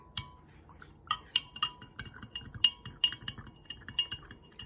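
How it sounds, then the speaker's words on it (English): A spoon stirs salt into a glass of water, giving a run of sharp, bright clinks of metal against glass at an uneven pace, close up and fairly quiet, with no talking. "take a couple spoonfuls of salt and mix it into one of the glasses"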